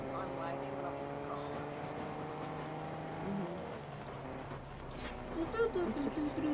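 A car engine hums steadily while driving in Fortnite, a tonal, revving drone that shifts pitch, with a voice talking over it toward the end.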